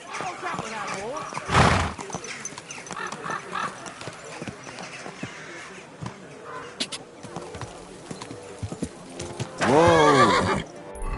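Horse in the Kingdom Come Deliverance 2 video game gives two loud whinnies, one near the start and a longer one near the end, with hooves clip-clopping and faint birdsong in between.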